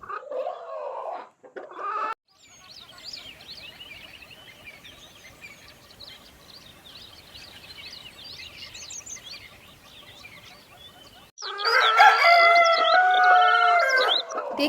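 Chickens cluck steadily at a chicken farm in a cartoon, a soft continuous flock chatter, with a loud rooster crow breaking in near the end.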